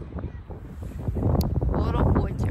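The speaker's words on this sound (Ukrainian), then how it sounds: "але вітряно і холодно" Cold spring wind outdoors buffets the microphone with a loud, gusty low rumble that swells and builds over a few seconds.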